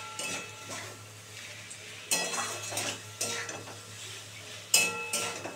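A curry being sautéed in a pan, with a spatula scraping and clinking against the metal several times in uneven bursts over a quiet continuous sizzle, up close without speech.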